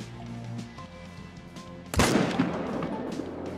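A single hunting rifle shot rings out sharply in theHunter: Call of the Wild, a loud crack at the two-second mark with a short echoing tail fading over ambient game background.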